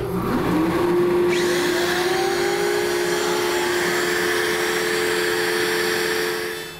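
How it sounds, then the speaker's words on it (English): Woodworking router with its bit against a fence, cutting 45-degree bevels along the sides of wooden boxes for a burial urn: a loud, high continuous whine with a slight pitch rise as the wood passes the bit. "pass each side down alongside the bit here against the fence, and it'll cut a perfect 45 degree bevel on the sides of the boxes."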